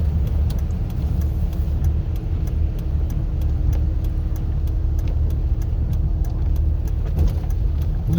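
A white pickup truck drives past on a snowy mountain road between Angelus Oaks and Forest Falls, a steady close engine rumble and tyre noise holding evenly throughout, with faint rhythmic ticking over it.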